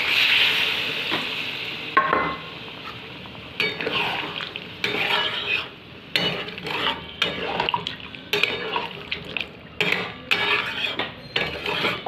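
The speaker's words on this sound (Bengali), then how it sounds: "এবার আমি জলটা দিয়ে দেবো।" Soybean and potato curry sizzles in a pan as water is added. A hissing sizzle comes first, followed by repeated scraping and clinking of a utensil stirring against the pan.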